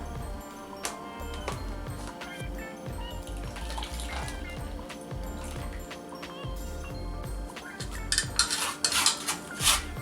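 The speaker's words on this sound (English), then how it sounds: "Now I'll strain it in this bowl." Blended coriander paste strained into a bowl, with clinks and scrapes of a utensil against metal and wet, trickling liquid, close and irregular, growing busier near the end.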